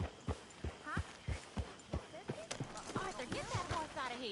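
Horse hooves clip-clop in Red Dead Redemption 2, a steady, fairly close rhythm of distinct hoof strikes, while voices talk over the walking gait.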